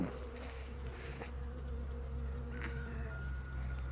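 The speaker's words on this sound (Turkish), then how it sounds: "Bu çerçevedeki arıları getirdim ona." Bees swarm over a beehive frame holding a caged queen, a dense, continuous droning buzz close by, with a few individual insects swelling louder as they pass near.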